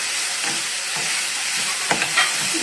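Onion, tomato and green chilli frying in a pan over medium flame for a Coorg-style chicken fry, a steady close hiss and sizzle with a few soft stirring scrapes near the end.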